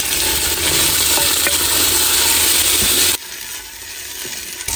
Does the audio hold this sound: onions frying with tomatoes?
yes